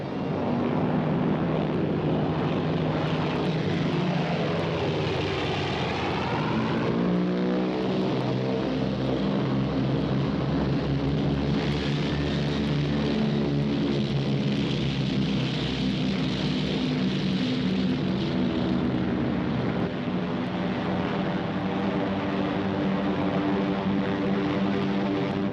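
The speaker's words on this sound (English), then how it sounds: "they would send their bombers to blast it from the face of the earth" Propeller bombers fly overhead in a continuous heavy droning roar of piston engines that swells and shifts pitch as the aircraft pass, loud and steady throughout with no voices.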